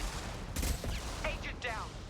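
Gunfire in the video game Mass Effect 2, with a short burst of shots in a combat scene over steady game noise and ambience.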